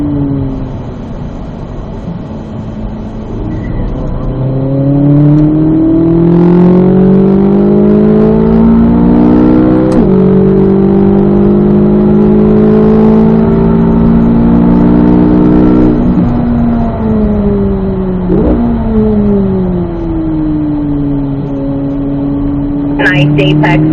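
A Corvette Z06 on fast laps at Ron Fellows East race track, its engine loud and close as the revs climb and fall in long sweeping pulls through the gears.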